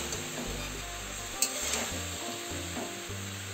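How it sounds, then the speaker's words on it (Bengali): Chopped bottle gourd leaves sizzle steadily in a hot pan while being stirred, with a few scraping clinks of the spoon against the metal and a low continuous hiss underneath. "লাউ পাতাটা দেওয়ার পর 2-1 মিনিট নাড়াচাড়া করার পর"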